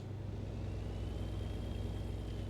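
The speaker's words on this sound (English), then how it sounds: "the sounds for this game and for this truck are just absolutely beautiful" A heavy truck engine in American Truck Simulator hums at a steady cruising drone, a dense low rumble with a faint high whine, continuous and unchanging with no talk.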